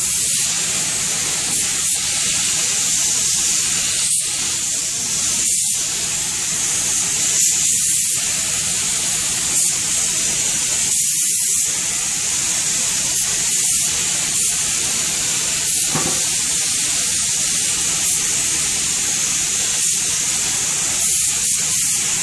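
Spray gun applying top coat to a refinished Kindel wood table: a loud, steady hiss of atomized finish runs continuously, with slight pulses as the gun moves across the surface.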